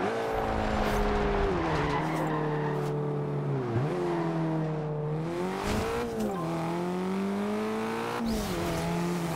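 A Mercedes A 45 AMG driven in the racing game Forza Horizon 2, its engine droning and rising and falling through gear changes, with tire squeal and skidding as the car corners, loud and continuous with no talk.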